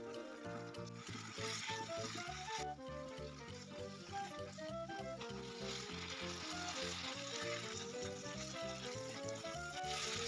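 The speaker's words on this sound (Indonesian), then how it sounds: "Aduk-aduk dan masak hingga mendidih dan air menyusut." Grated coconut cooking in boiling sugar water for a traditional Mendut cake filling, a steady close bubbling sizzle with occasional stirring, continuous and fairly quiet throughout.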